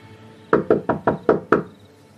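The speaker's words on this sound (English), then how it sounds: "so I just knocked really hard" Six loud, sharp knocks on a door in a quick, even series, close by, then silence.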